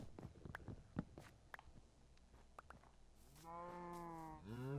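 Video game cows on a mountain ranch give a long, drawn-out moo near the end, over soft rustling footsteps and faint ambient game noise.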